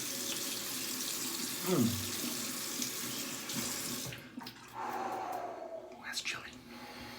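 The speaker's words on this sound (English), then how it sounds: "Put a little bit of cold water on there and it really kicks up the cold." Cold water runs steadily from a tap during a wet shave, a continuous hiss that briefly dips, then returns with splashing; a short spoken exclamation occurs.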